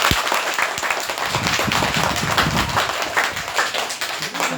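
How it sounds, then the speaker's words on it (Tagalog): A classroom audience applauds debate speakers at a school class debate, a dense, steady patter of many hands clapping throughout, fairly loud and close, with no talking over it. "bigyan po natin na maraming palakpak ang ating tagaganap"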